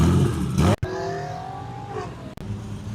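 A blue turbocharged flat-4 VW engine that needs an exhaust repair revs hard at a car gathering in Thailand, rising and falling with a loud, raspy tone and two abrupt cut-offs.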